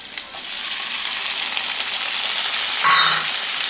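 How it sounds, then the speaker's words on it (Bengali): Onions sizzling in hot oil as they fry until lightly reddened, with a large tomato to follow, for a spicy mourola fish curry; a steady, close, fairly loud frying hiss runs throughout with no voices. "পেঁয়াজগুলো হালকা লাল করে আমি ভেজে নিচ্ছি।"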